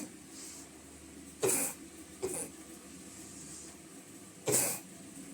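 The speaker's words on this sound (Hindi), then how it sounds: "खांसी आ गई थी" Three sharp coughs, separated by short pauses, close to the microphone in an otherwise quiet room.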